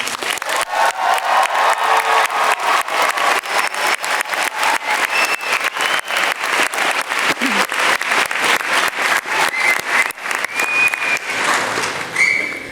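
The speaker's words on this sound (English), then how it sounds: "Join me in a round of applause." An audience at a university master's commencement ceremony applauds the graduates, with loud, continuous clapping punctuated by sharp rhythmic claps, occasional whistles and cheers rising through the crowd.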